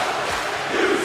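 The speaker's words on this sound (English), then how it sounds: "The crowd letting Louis hear it." A wrestling crowd at a live event jeers and shouts continuously, a dense, loud roar of many voices with no gaps.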